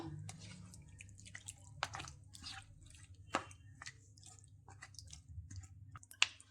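Cooked chicken stirred together with curry ingredients for a Kerala-style marunnu chicken, soft wet squelches and light drips of thick mixture at close range, quiet, with occasional sharper spoon taps.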